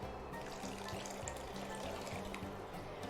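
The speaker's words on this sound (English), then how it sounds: "And I'm going to add some water." Water pouring steadily into a pot of sweet corn soup with carrots, a continuous close splashing fill that lasts throughout without pause.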